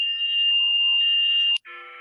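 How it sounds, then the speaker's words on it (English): A Canadian emergency alert system alarm tone sounds as a loud, piercing steady electronic pitch for about a second and a half, breaks off abruptly, then resumes as a harsher buzzing dual tone. "It sounds like the Canadian ES alarm again."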